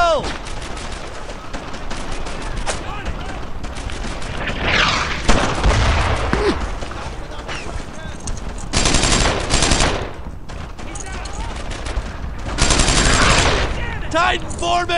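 Squad gunfire in the World War II shooter Brothers in Arms: Earned in Blood, with sustained machine-gun and rifle bursts and heavy booms, loud and dense across the scene while soldiers shout orders over the shooting.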